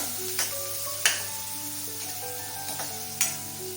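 Chopped onions fry in a pan for a suran (elephant foot yam) vegetable dish, giving a soft, steady sizzle broken by a few sharp clicks of stirring.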